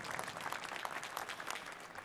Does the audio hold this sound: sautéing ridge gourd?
no